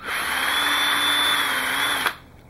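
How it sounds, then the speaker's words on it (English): A power drill with a bit just under a quarter inch whines steadily at high speed as it bores a hole in a plastic bottle cap, then cuts off abruptly, loud and close with no talk. "you drill a nice hole in there."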